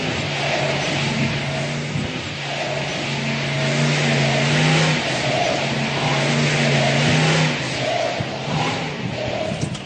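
A muscle car being driven through a slalom course produces a loud, close engine growl that swells and eases as the car weaves, running continuously over a noisy background.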